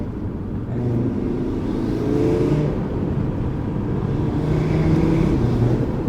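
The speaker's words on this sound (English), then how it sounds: "And the intake sound just makes it so much better." Audi RS3 with around 500 horsepower accelerating on a mountain road, its engine and intake drone rising in pitch under load, heard from inside the car, steady and prominent.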